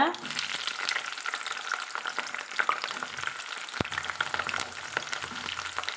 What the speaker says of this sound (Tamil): அதில் குள்ளே இருக்கிற விதையெல்லாம் எண்ணெய்க்குள்ளே போடுறனால தெரிக்குங்க